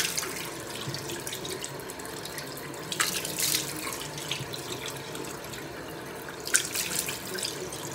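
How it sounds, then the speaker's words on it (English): Water runs steadily from a tap into a sink during rinsing, a continuous close splashing rush with a few brief louder splashes, no talk over it. "we're just going to go ahead and rinse"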